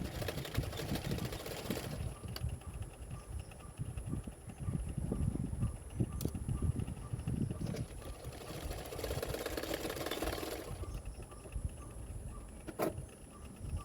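Sewing machine stitching the sleeve onto a ruffle sleeveless blouse along the armhole edge, a steady close mechanical whir running throughout with slight shifts in pace and no talk.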